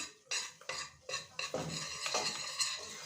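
Flour and tomato paste roasting in a pot, stirred with a spoon: quiet scraping strokes and soft clinks against the pot in an uneven rhythm, with a faint sizzle underneath.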